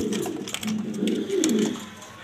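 A newly paired couple of domestic pigeons kept for breeding coo close by in a steady, low, rolling murmur, with a few overlapping calls and no talk.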